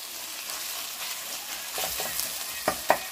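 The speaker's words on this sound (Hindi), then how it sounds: "2 से 4 मिनट हम प्याज को अच्छे से फ्राई करेंगे।" Onions fry with cumin seeds in oil in a pan, giving a soft, steady sizzle close by, with two sharper scraping stirs near the end of the short stretch.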